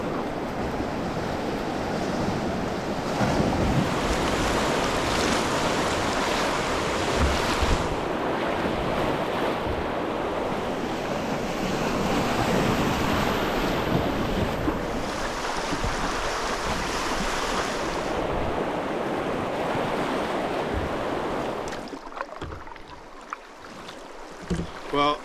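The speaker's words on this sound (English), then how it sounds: "But a bit of a rapid coming up." Rushing river rapids on a Yukon wilderness river, a broad, continuous roar of churning water heard up close from a small boat for over twenty seconds, fading near the end.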